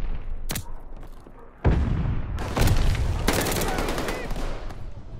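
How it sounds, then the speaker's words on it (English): A grenade blast booms through a Call of Duty: Vanguard firefight amid rapid gunfire, with sharp shots early on, then a loud thudding explosion and sustained bursts of automatic fire. "Throwing grenade."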